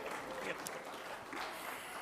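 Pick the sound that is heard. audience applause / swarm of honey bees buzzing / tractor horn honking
audience applause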